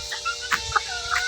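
A chicken clucks a few short times, soft and close, with brief pauses between the clucks.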